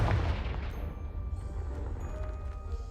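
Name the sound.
Confringo spell blast in video game Hogwarts Legacy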